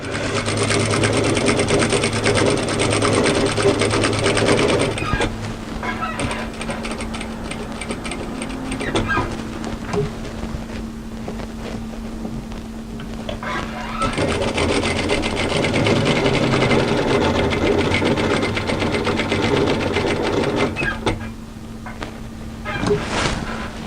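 A sewing machine stitches a hooded jacket, running in long steady bursts with a brief slowdown in the middle, close and loud with no talk.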